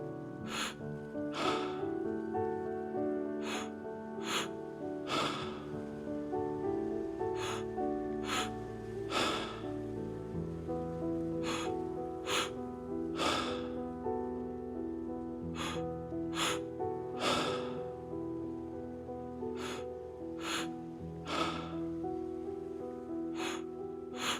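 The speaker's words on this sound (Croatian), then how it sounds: "Volite to disanje, nemojte se naprezati" Deep, slow breathing during a breathing meditation, with repeated audible inhales and exhales over a steady, soft tonal music background throughout.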